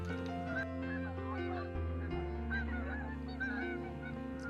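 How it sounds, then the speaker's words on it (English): Flock of geese coming down to land in Kansas, with overlapping honks rising and falling continuously at moderate distance, fairly faint. "It can be silky smooth when geese rain down."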